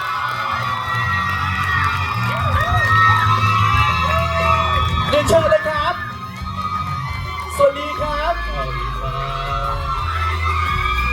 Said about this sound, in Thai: ขอเสียงปรบมือและเสียงกรี๊ดดังๆต้อนรับศิลปินของเรา